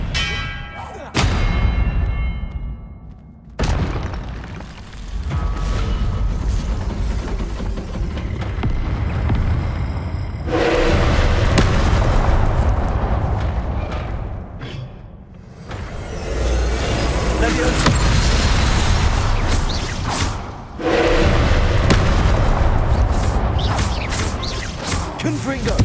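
Blasting spells explode in Hogwarts Legacy, heavy booming bursts that repeat in loud waves with brief gaps between them, layered with rumbling game effects.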